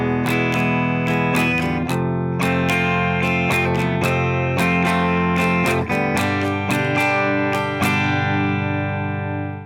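An electric guitar plays the chord sequence from a song, bright strummed chords struck in a bouncy rhythm, ringing together at a full, steady volume.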